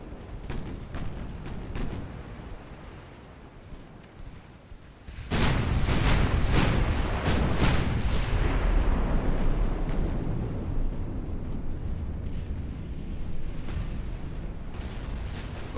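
Naval guns fire in the warship game Ultimate Admiral: Dreadnoughts, with scattered distant thumps and cracks first, then a sudden heavy salvo of booming blasts that leaves a dense rumbling roar through the rest, no speech.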